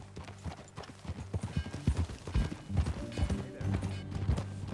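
Horse hooves clip-clop at a steady walking rhythm in the Western video game Red Dead Redemption 2, fairly close, with a low musical score underneath and brief speech-like sounds.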